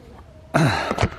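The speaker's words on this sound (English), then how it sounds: "Crowing at such a young age." A young rooster lets out a short, strained crow that breaks up and wavers, a single close call lasting under a second after a quiet pause.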